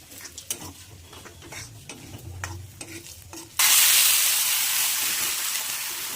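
Moong dal tipped into hot oil tempered with panch phoron: a few scrapes and clinks of stirring, then a sudden loud, steady sizzle that holds and slowly eases off, with no talking.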